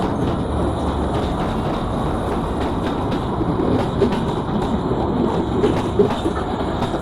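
The Barendra Express rolling into a Bangladesh railway station on the way to Rajshahi, a steady, loud rumble of wheels and cars with faint rhythmic clatter and occasional squeal, close by and continuous with no voices.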